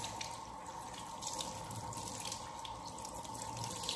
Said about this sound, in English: I'm gonna go ahead and rinse them.